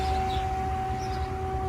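An alert siren sounds over Rouen, a steady sustained wail holding an even pitch against a low rumbling background.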